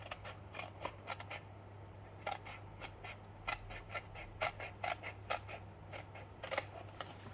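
Scissors snip through paper and cardstock while an envelope box is being made, giving a quiet, irregular series of crisp cuts with short pauses between them over a low steady hum.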